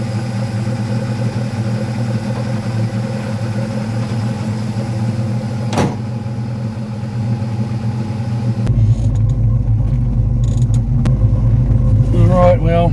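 Vauxhall Firenza HPF engine idling with a steady low rumble, then a sudden, louder and rougher running note as it pulls away, with a short crack partway through.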